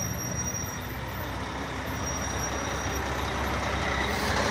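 A truck rumbles past on a city street in heavy traffic, a loud, broad engine roar building steadily over several seconds with no voices above it.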